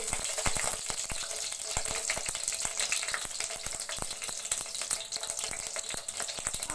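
Onion and green chilies frying in a pan for Andhra-style prawn fry, a loud, dense, steady crackling sizzle with rapid popping spatters, close and continuous.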